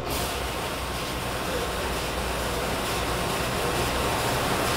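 A prospecting machine runs with water after start-up, a loud, steady, broadband roar with a churning rumble like a freight train, continuous and close.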